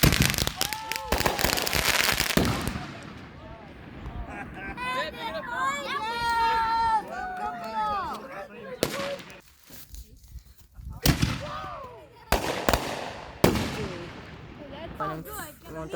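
Fireworks and firecrackers go off on New Year's Day, opening with a dense burst of crackling bangs, then a stretch of whistling, screeching rockets, followed by scattered loud sharp blasts with pauses between them, with people talking and calling out in the background.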